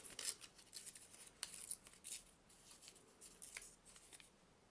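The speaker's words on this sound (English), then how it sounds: "just to rip it down the edge with your hands" Paper torn by hand along the edge with a metal ruler for a junk journal, faint close crisp ripping and rustling in short bursts.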